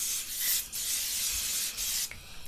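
A spray bottle mists berry-scented water onto a face, making a few close, soft hissing bursts of spray separated by brief pauses.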